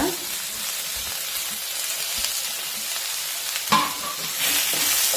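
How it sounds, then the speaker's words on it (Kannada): Tomato and salt tipped into a frying base for Tamil Nadu style khara chutney, giving a steady close sizzle with stirring scrapes and a brief louder splutter as the pieces hit the hot oil. "ಈಗ ಇದು ಚೆನ್ನಾಗಿ ಫ್ರೈ ಆಗಿದೆ. ಟೊಮೆಟೊ ಹಾಕೋಣ."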